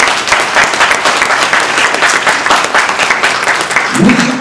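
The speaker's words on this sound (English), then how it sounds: "Can we clap it up for that?" Audience at a home mortgage initiative launch event clapping loudly and steadily, a dense burst of applause that carries through the whole stretch with a brief low voice near the end.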